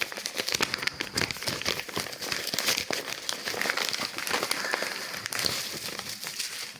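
A small envelope holding Pokémon cards is opened by hand, dense close-up paper crinkling and rustling with crisp crackles throughout, no speech.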